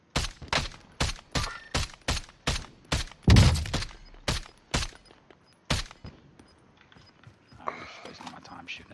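Bursts of gunfire in the shooter game Call of Duty Warzone, about a dozen sharp evenly spaced shots with one heavier blast in the middle, loud and close, thinning out toward the end.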